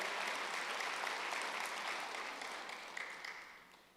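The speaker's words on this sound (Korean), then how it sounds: "박수 하세요." A church congregation at a Wednesday worship service breaks into applause, a dense, even wash of clapping from many hands that gradually fades toward the end, fairly faint overall.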